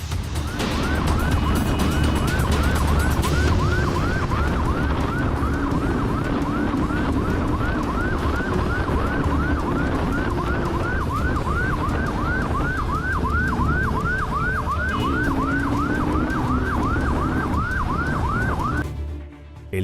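Police car sirens wail loudly and continuously in a rapid repeating yelp during a night chase, with a low vehicle rumble beneath and no voices, cutting off abruptly at the end.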